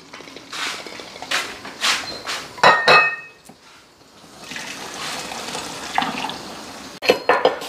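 Ice-cold tap water runs over freshly boiled eggs in a kitchen sink to cool them, with the water changed several times. Splashing gushes and clinks of the eggs and pot come in uneven bursts, loud and close, with no talking.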